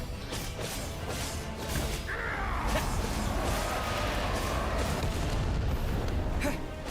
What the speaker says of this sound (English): So we get to shoot fire beams and shit.